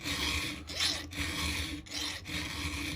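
A hand file rasps across a .404 semi-chisel chainsaw chain held in a jig, sharpening the cutters in close, steady strokes with short pauses between them.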